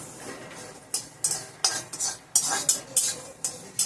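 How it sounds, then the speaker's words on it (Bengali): Chopped kharkol leaves are dry-fried in a wok while a utensil stirs and scrapes. The clinks come in irregular close strokes over a soft sizzle, with no talking. "এখানে এগুলো একটু ভেজে নেবো কড়াইয়ে"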